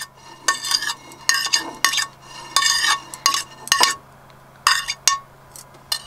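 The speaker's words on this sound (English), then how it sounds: "You just mix everything together and that's it." Salad of mint, spring onion and cucumber being stirred and tossed in a bowl aboard a narrowboat, with repeated close scraping and clinking strokes of utensils in an irregular rhythm and short pauses between them.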